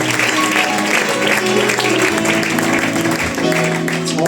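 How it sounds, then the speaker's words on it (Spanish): A church congregation gives sustained, loud applause that fills the space, with music playing underneath. "Dale un aplauso al que vive."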